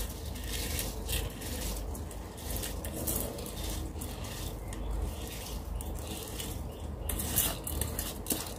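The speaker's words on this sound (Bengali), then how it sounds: "তো আমি এখন হলো চালটা দিয়ে দেবো এর মধ্যে।" Washed rice goes into a pot of boiling lentils, a continuous wet rustling and bubbling with soft clatter of grains and utensil against the pot, steady and close with no talk.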